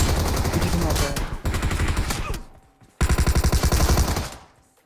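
Sniper and assault rifle gunfire in the battle game PUBG Mobile: dense rapid automatic bursts, loud and close, breaking off and restarting in a fast string of shots before fading out.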